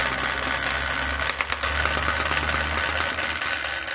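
A valve lapping machine runs for a pump repair, giving a continuous mechanical hum with a steady low drone and faint rattling vibration throughout, close and fairly loud, with no talking.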